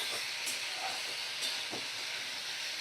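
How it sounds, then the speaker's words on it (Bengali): Spice masala with boiled liver stir-fries in a pan over a medium flame, giving a steady, close sizzling hiss with a few soft stirring scrapes and no talk. "মিডিয়াম ফ্লেমে রেখেই আমি মশলাটা কষাচ্ছি।"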